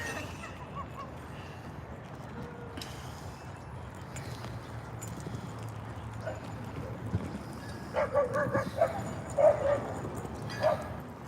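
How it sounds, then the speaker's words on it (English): At a dog park in Balboa Park, San Diego, several dogs bark in short, scattered yips, mostly toward the end. The barking sits under a steady outdoor background at moderate distance. "here's that dog park. Look at all these dogs right here."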